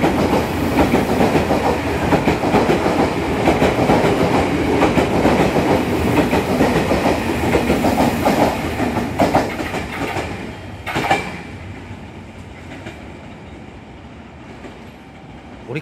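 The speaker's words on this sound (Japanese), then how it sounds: "で、この2番乗り場を列車が通過するそうです。" An N700 bullet train, eight cars, roars through a station at full volume with a rushing rumble and rhythmic wheel clatter, then the noise fades away quickly, leaving quieter ambience.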